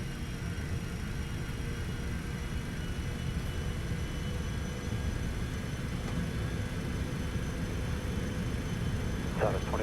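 Twin jet engines of a Cessna Citation X in the X-Plane 12 flight simulator roar steadily at takeoff power, a dense, continuous rush with no pause.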